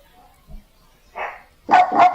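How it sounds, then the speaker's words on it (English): A dog gives a faint low sound, then a soft growl-like murmur, followed by two louder close barks at the end, heard alone indoors. "See if Evie growls at her again, because she got out of the bed."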